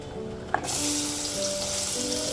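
A brief clatter, then a steady loud sizzle as chopped large onions hit hot oil already used to fry dried seer fish, and keep frying, a continuous crackling hiss.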